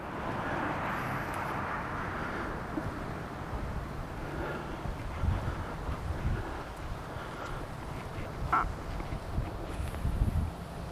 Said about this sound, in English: I feel a good wind right here.